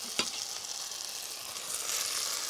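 Beet rice sizzles steadily in a frying pan as it is stirred, a single scrape or tap at the start over a constant hiss that rises slightly toward the end.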